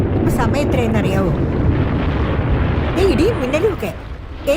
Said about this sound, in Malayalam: ഇടിയും മിന്നലും ഒക്കെ.